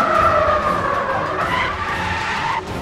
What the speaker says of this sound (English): This is all the logic that goes into just playing this tire skid sounds.